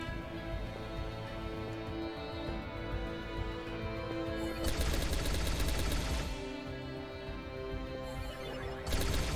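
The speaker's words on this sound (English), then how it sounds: "I like this gun way better than the pistol." Rapid automatic gunfire from a gun in the video game Deadly Threat, dense bursts around the middle and at the end over a constant droning game soundtrack, loud, with no speech.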